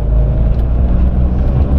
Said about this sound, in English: this is a 1960s Aston Martin DB5, very expensive, privately owned